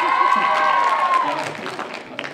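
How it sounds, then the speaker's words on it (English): An audience at a high school fall sports awards night claps and cheers in a burst of loud applause that fades over a couple of seconds, with a ringing tone early on. "it's okay to cheer and to get excited and to get happy"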